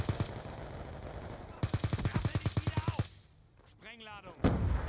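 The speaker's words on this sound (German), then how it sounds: "wen höre ich denn da mit der Shotgun spielen?" Rapid bursts of shotgun gunfire in the Call of Duty Black Ops 2 video game, a loud run of about a dozen evenly spaced blasts, then quieter game sounds with a brief exclamation from a player.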